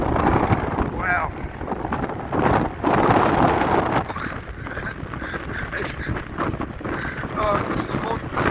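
Gale force wind buffeting a microphone on the Blackpool seafront, a loud continuous roar with gusting surges that rise and fall throughout.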